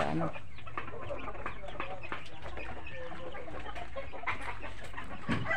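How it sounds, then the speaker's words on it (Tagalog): Hens and chicks cluck and peep steadily in a coop, with overlapping calls near and farther off over constant farmyard background noise. "Silipin natin yung mga sisiw."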